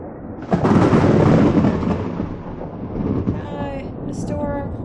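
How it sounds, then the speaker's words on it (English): Stormy weather in the video game Morrowind: a loud, rumbling roar of wind and thunder swells in, then settles into a steady blustery wash, with a voice speaking over it toward the end. "The storm."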